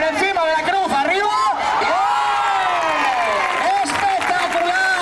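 A crowd applauds and cheers at a bull-leaping contest (concurso de cortes) in Aldeamayor de San Martín, Valladolid, a steady loud ovation under a commentator's continuous voice.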